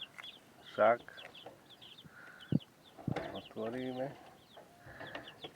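Young chicks peep in short, high, scattered bursts at close range in a quiet space, with a person speaking briefly between the calls.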